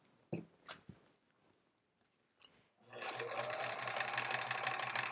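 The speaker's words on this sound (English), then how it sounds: "Because I'm just sewing it to the sashing" A domestic sewing machine stitches a quilt strip to white sashing, a few soft handling taps and clicks first, then a steady close mechanical whir that runs on evenly to the end.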